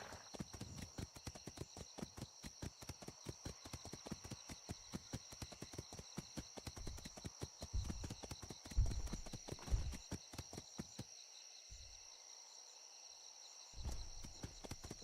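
Horse hooves beat in a fast, steady gallop through the game Atlas, with dense clip-clop strikes running close and loud for most of the stretch before a brief pause and a final burst of hoofbeats.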